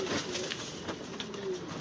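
Several pigeons coo softly inside a loft after feeding, low murmuring calls that overlap close by at a quiet level, with no one talking.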